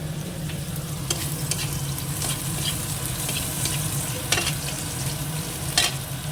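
Tomatoes fry in a pan with a continuous, close sizzle, punctuated by a few sharp scrapes and clinks of stirring, with no talking.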